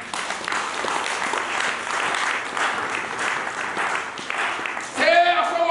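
A church congregation applauds during a French-language sermon, giving steady, dense clapping for about five seconds before a voice rises sharply over it at the end.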